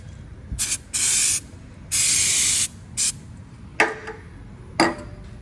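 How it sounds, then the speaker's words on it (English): Brake cleaner sprayed from an aerosol can across the top of a diesel engine that won't start: a series of sharp hissing bursts, some short and some held for most of a second, close and loud. "Clean the top down there with a bit of brake cleaner."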